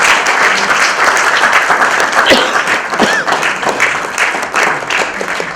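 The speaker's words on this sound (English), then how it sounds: "Can we please have a big round of applause?" An audience at a literary session in Jaipur gives a sustained, loud round of applause, with many hands clapping densely and evenly throughout, close and filling the room, and a faint murmur of the crowd beneath it.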